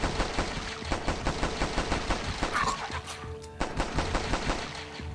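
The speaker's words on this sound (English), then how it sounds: "I like how the pistol, your fire rate is limited to how fast you can click pretty well." Rapid pistol fire against zombies in the browser game Last Stand 2, a dense run of steady, clicking gunshots with a brief lull midway, fairly quiet and with no talking.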